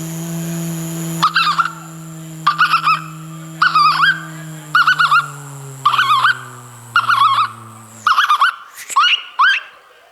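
A voice imitates a horse, rhythmic clip-clop bursts galloping over a low drone, then a short whinnying call as it stops, in a comic mimicry performance.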